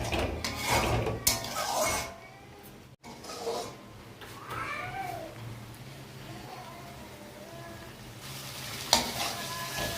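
Spice masala with chilli powder and mashed tomatoes frying in oil in a wok, with a soft sizzle and occasional spatula scrapes and clinks, close and moderately quiet with brief pauses.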